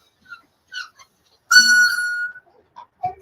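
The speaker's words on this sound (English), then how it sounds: "sippy cup is like a full-blown whistle" A child's sippy cup gives off a sustained shrill, whistle-like tone lasting about a second, loud and close, between faint scattered small noises.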